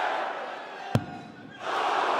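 A darts arena crowd at the PDC German Darts Grand Prix roars, hushes after a sharp thud, then swells again into loud groaning and cheering after a missed double 12 for a nine-darter.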